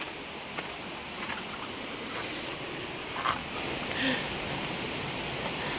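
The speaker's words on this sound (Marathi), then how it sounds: "गुहेतून या पाऊस पण आलाय" Rain falling outdoors beside a rocky stream near a cave during crab catching, a steady even wash of noise with no clear pauses, heard close and alone without any talking.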